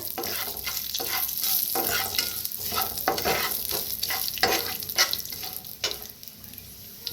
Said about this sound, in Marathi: जी धन हे बारीक करून घेतलं होतं आपण ते तेलात भाजून घेऊया